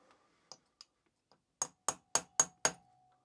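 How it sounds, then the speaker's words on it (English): Five sharp metallic taps of a small hammer on a small punch during a mini chopper engine teardown, in a quick, evenly spaced run, after a few lighter, scattered clicks; close and fairly clear. "It's a little punch, little hammer."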